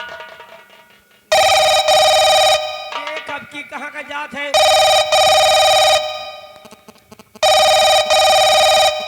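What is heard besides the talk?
telephone ringing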